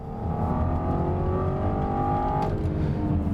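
A V6 Audi TT Quattro accelerating along a road, heard from inside with a steady engine drone and a climbing tone that rises, dips at a gear change, then rises again.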